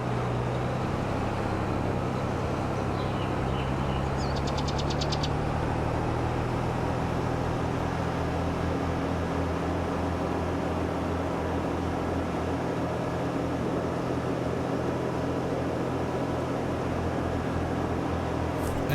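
Steady low drone of a tractor engine in Farming Simulator, a constant loud hum and rumble running throughout with little change, no talking over it.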